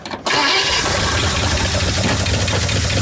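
A 1959 Ford Fairlane 500 Galaxie engine starting for the first time in over 20 years, a brief crank that catches abruptly and settles into a loud, rough, steady idle close by, with no talking.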